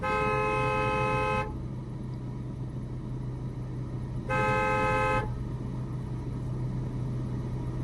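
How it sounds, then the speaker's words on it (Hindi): Two loud, sustained car horn blasts in a narrow lane, one about a second and a half long and a second shorter one, over a steady idling engine rumble. "देखो टेम्पो खड़ा हुआ है, हॉर्न दीजिए।"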